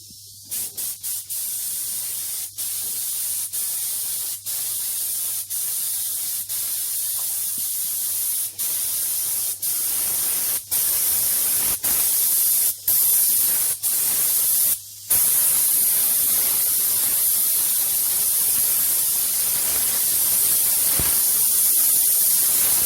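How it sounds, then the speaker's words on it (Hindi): A spray gun sprays paint on a car in a repainting process, giving a loud continuous hiss that is cut by many short pauses early on and then runs steadily without stopping. "सो अभी हम स्प्रे गन की हेल्प से स्टार के अंदर जब पेंट करने वाले हैं।"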